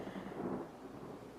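A storm's thunder rolls as a low, steady rumble with faint rain hiss, distant and soft throughout, with no voices.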